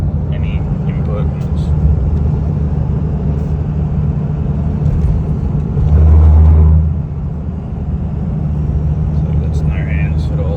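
A 2001 second-generation Dodge Ram with a Cummins diesel and five-speed manual cruises, heard from inside the cab as a steady low engine and road rumble that swells briefly midway. Someone talks over it throughout.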